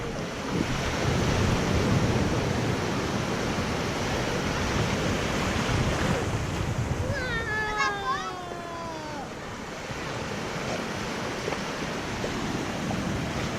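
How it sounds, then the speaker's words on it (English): Ocean surf rolls and washes steadily at St. Augustine Beach, with wind buffeting the microphone and a brief high-pitched child's squeal partway through. "Are you surfing waves? There's a big one."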